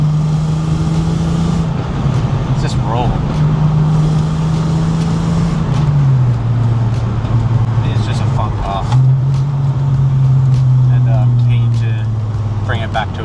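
A Holden VS Commodore with an Ecotec engine and 5-speed manual driving on the road, the steady engine drone dipping and rising through gear changes, heard from inside the car under ongoing talk.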